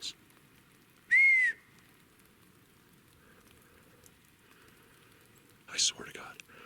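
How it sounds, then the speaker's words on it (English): One clear whistled note rises briefly, then holds steady, picked up by a trail camera in quiet snowy woods, with faint steady background hiss and a short muffled rustle or knock near the end. "And I got whistles."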